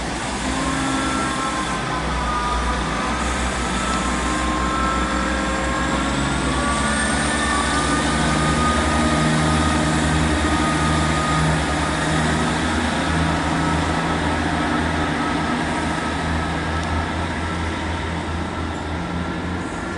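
Train 158956, a South Western Railway service, passes through Bath Spa station on the Great Western Main Line with a loud, sustained diesel rumble and rising engine tones, steady and close throughout, with no talk.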